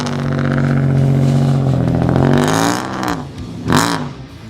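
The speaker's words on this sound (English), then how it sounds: "this is the ultimate form of the GM sound of power" A GM 3.4 V6 race car engine with dual overhead cam heads, in a Lemons endurance car at Road Atlanta, drones loud and close, then sweeps through sharp revving swells that rise and fall.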